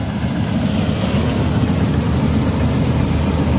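A machine's engine works in a muddy paddy field during harvest, a loud, steady, low chugging drone running continuously up close without pause.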